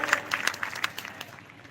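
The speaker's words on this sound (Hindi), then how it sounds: "एक बार जोरदार ताली हमारे हंगाम भाई साहब के लिए।" Applause from the audience at an SC/ST/OBC public rally in Ashoknagar, a brief scattered patter of claps, moderately faint and thinning out over a couple of seconds.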